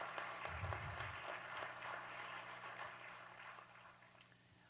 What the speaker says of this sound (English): Can we give Maddie another round of applause, please?